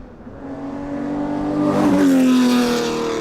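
A Ferrari 250 GTO V12 engine revs up loudly and climbs in pitch, holding a strong, rich roar as it grows nearer.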